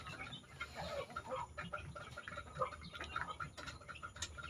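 Large new hens of a Burmese cross breed cluck steadily in a farmyard, with overlapping calls near and farther off and no talking.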